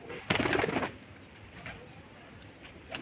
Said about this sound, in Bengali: এটা ফুলসিরা লাইনের পায়রা এটাও অনেক পুরনো লাইনের পায়রা